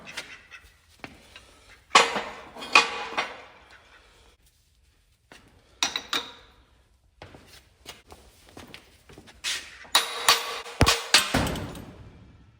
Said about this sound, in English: So just knock it out the rest of the way with the hammer.